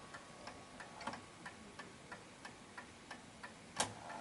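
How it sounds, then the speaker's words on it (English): An antique Enfield Westminster Chimes clock made by James Walker Ltd ticks steadily and faintly, roughly three even ticks per second, with one brief louder knock near the end and no talking. "you can still hear the clock ticking"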